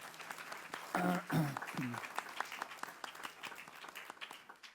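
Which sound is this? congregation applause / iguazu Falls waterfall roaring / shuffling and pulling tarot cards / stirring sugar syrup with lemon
congregation applause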